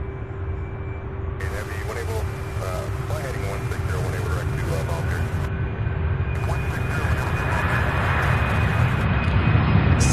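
A Boeing 767 taking off from Louisville bound for LAX gives a steady, broad engine roar that slowly grows louder, with a constant tonal whine and faint voices in the background.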